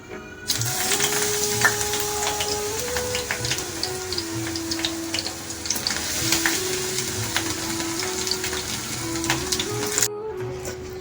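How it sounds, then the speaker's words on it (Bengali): Eggplant pieces fry in hot oil for a winter mixed vegetable dish, giving a steady, close crackling sizzle with scattered pops and a faint constant hum beneath, cutting off just before the end. "তেল গরম হয়ে আমি বেগুনটা একটু ভেজে নেব"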